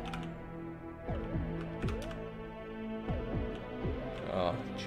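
Computer keyboard and mouse used for PC game control, keys tapped in irregular bursts close by while someone talks over them.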